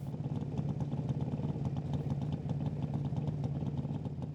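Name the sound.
Pro Stock drag racing motorcycle engine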